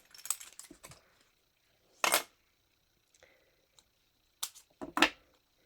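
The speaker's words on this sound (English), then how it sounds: "What I do is I just snip them apart" Scissors snip small paper card pieces apart in a quiet craft setting, a few sharp close clicks in short clusters separated by silence, no voices.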